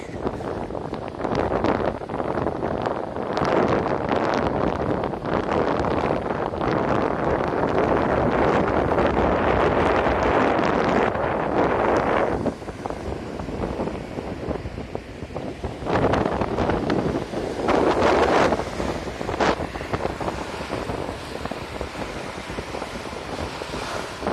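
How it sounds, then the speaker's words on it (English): Strong wind buffets and roars across the microphone continuously, with Lake Michigan surf rushing underneath and gusts rising and easing throughout. "It's super windy."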